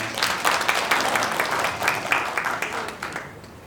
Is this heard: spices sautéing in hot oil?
no